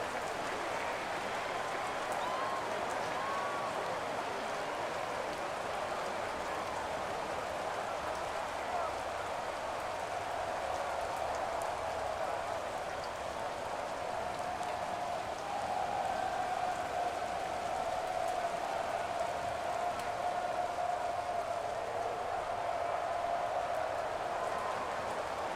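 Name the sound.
rain in Madden NFL video game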